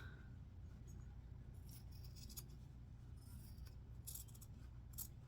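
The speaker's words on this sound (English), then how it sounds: "I'm going to take my scissors and I'm going to even up the bottom" Fabric scissors snip across the hem of a dress being sewn, with a few faint, crisp metallic cuts over a low steady room hum. No talking.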